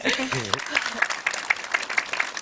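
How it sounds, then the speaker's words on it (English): Audience applause at a creators' panel discussion on inclusive brand experiences breaks out right after a brief voice, a short burst of scattered hand claps that fills the rest of the moment. "It deserves a round of applause, I think."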